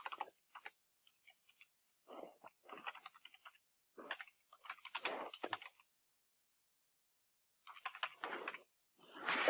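Typing on a computer keyboard, quiet close clusters of rapid key clicks in short bursts separated by silent pauses.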